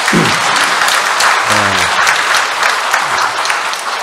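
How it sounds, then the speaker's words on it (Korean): Church congregation applauding to welcome visiting tourists, a loud continuous wash of many hands clapping that fills the clip, with a brief voice surfacing faintly in the middle. "우리 이분들을 위해서 환영의 박수를 보내겠습니다."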